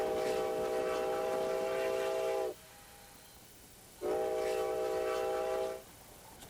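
Two long, steady steam whistle blasts from Baldwin Mikado 2-8-2 steam locomotive number 73 on the White Pass & Yukon Route, each lasting a couple of seconds, separated by a quiet pause, loud and fairly close.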